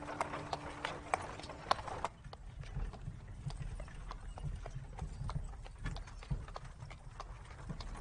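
Horse hooves clip-clop in a steady, quick rhythm at moderate distance, fairly faint over a low background, with a brief tonal sound near the start.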